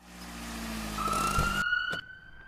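An ambulance siren wails, a loud, close tone that sweeps then holds steady before cutting off abruptly, leaving a fainter lingering tone and a thump.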